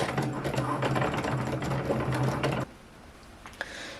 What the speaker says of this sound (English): Now it will cut out our labels.